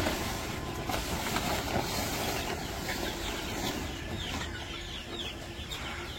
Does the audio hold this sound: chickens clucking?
yes